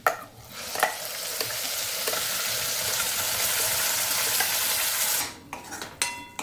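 Spice masala for shev bhaji stirred and frying in a pan, a steady close sizzle that runs for about five seconds, with spoon scrapes and clinks against the metal at the start and end.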